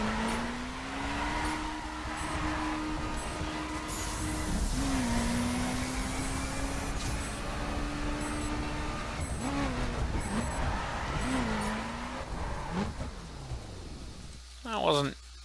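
A Subaru BRZ drifting in The Crew: a steady engine drone with pitch that wavers and dips through the slides, with tire squeal and skidding noise underneath, and a sharp burst near the end.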